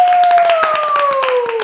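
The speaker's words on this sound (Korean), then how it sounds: "박수!" A studio audience breaks into a short burst of applause as the group introduce their third mini album, dense rapid claps running throughout alongside a bright, slowly falling tone.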